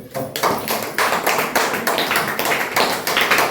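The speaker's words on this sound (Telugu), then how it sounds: "వారు వస్తుండగా చప్పట్లు." A congregation at a church gathering claps as the pastor comes forward, a dense burst of handclaps with pulsing rhythmic swells throughout.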